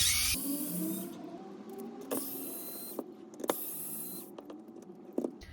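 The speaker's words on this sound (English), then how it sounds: "So let's get all of these screws out." Small screws being backed out of the plastic wheel panel of a Wltoys RC car with a torque-set screwdriver, giving faint mechanical whirring with scattered sharp clicks and taps, close up and without talk.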